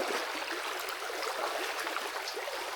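River water flows and splashes steadily close by as someone walks through the river, a continuous broadband rush with no voices.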